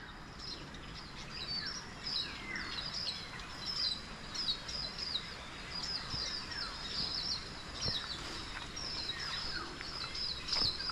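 Many birds sing close to a lanzones farm, with bright, overlapping chirps and trills repeating throughout over a faint outdoor hum and insects.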